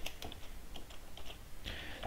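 Someone types on a computer keyboard, entering a spreadsheet formula: faint, irregular clicks and taps with no voices.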